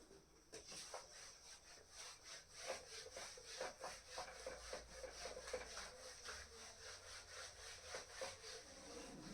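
A board is rubbed clean with a rapid, rhythmic back-and-forth scrubbing, quiet and close, continuing steadily with no talk.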